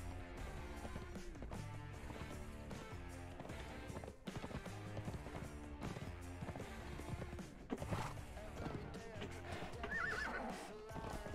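A horse in the survival game Conan Exiles neighs and whinnies while its hooves clip-clop in a quick running rhythm, set against a dense, busy game soundscape with a shrill whinny near the end.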